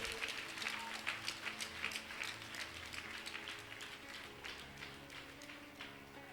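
Applause in a church, a loose patter of hand claps that is livelier at first and then thins out, with faint voices underneath.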